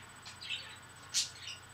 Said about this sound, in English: It's a very strict bird, and it bites me a lot.